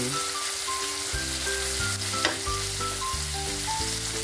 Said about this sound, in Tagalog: So, hintayin lang natin maluto ang onion.